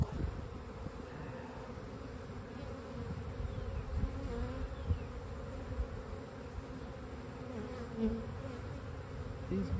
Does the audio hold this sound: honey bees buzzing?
yes